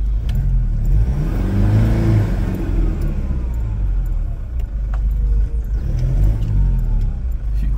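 A Toyota 4x4 engine revs and strains as the vehicle drives slowly through a hole off-road, a steady loud low rumble with rising and falling throttle close by.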